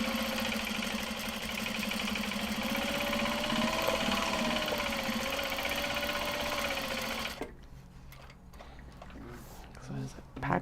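A sewing machine runs steadily, top-stitching fabric cat head pouches, with a loud continuous mechanical whir for about seven seconds before stopping abruptly, leaving quiet room noise with faint shuffling.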